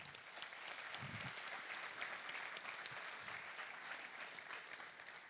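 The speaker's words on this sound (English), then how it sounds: "Huge round of applause for all of our winners in this year's projects categories." A crowd at an environmental excellence awards ceremony gives sustained, even applause for the winners, fairly distant and steady throughout with no clear voices.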